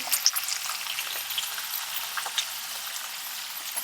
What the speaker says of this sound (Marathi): आता ह्याच्यामध्ये जे वांग कट केलं होतं ते घालून घ्यायचं